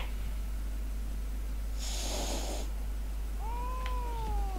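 A cat in the video game Tokyo Jungle gives a brief snarl over a steady hum, followed by a short rising meow-like cry.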